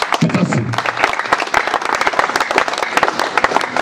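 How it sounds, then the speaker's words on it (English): Guests at an award and inauguration ceremony clap close by, sharp individual hand claps ringing out in a brisk uneven rhythm, with a brief low voice at the start. "can you clap for him, please?"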